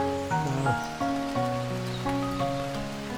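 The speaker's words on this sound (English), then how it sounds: "the rain's getting quite heavy now" Steady hiss of heavy rain pouring down in Cornwall, with clear melodic tones sounding over the downpour throughout.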